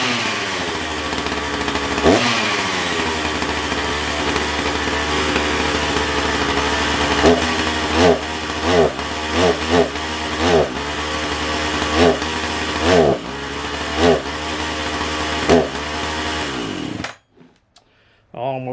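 A Husqvarna 359 chainsaw with fresh fuel mix starts and runs, its engine droning steadily near and loud with repeated sharp revs rising over the idle before cutting off abruptly near the end.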